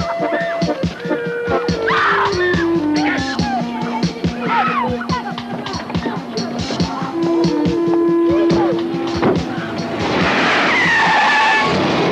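A Mercedes car speeds off with tyres squealing and skidding in long wailing tones, engine roaring close over a rattly mix of impacts, the screech rising again near the end.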